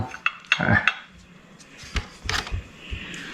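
Steamed fish stuffed with shrimp, a dim sum dish, being plated: ceramic clinks and knocks of a dish and utensils, scattered sharp taps with a quick clatter cluster near the middle, close and moderately loud, no talking.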